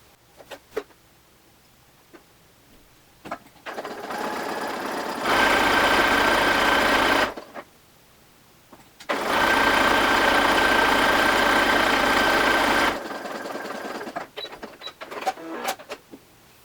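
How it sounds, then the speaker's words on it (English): A sewing machine runs a stretch stitch along a seam in two sustained bursts of steady mechanical whirring, separated by a pause and framed by quiet fabric handling and clicks. "I'm just going to stitch right there using a stretch stitch"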